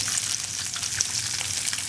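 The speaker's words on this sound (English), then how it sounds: "we've got a little olive oil in the frying pan, and we're just going to saute these vegetables lickety-split" Vegetables sizzle and crackle steadily in hot olive oil in a frying pan, a bright continuous frying hiss with small pops, close by and with no talking.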